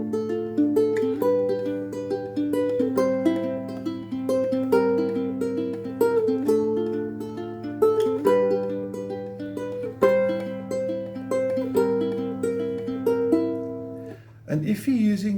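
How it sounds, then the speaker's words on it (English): Plucked ukulele notes pick out a gentle repeating fingerstyle pattern from a song, close and clear, with a faint low hum beneath and a brief strum near the end. "a really nice fingerstyle for ukulele"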